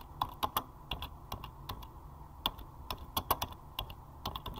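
Someone types on a computer keyboard up close, producing irregular bursts of crisp clicking keystrokes with short pauses between runs, with no talking.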